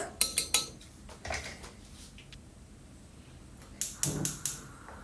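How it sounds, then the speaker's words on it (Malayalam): A spoon stirs ground coconut into a raw banana buttermilk curry in a Kerala-style pot, giving quiet clinks and taps against the vessel in short bursts with hushed pauses between. "ഇതിലേക്ക് നമ്മൾ അരച്ച് വെച്ച തേങ്ങ അതിലേക്ക് ആഡ് ചെയ്യാം എന്നിട്ട് നന്നായിട്ട് ഇളക്കുക"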